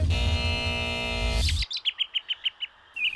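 After a loud burst of other sound cuts off, a bird chirps in a quick run of about eight short, high, evenly spaced tweets, clear and close.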